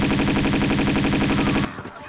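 Rapid automatic gunfire in Tomb Raider 2, a dense, loud, evenly spaced burst of shots that stops abruptly and leaves a brief fading echo.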